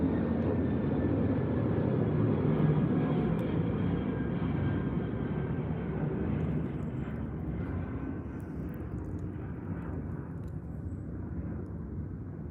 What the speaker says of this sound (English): oh, wait a minute, the plane coming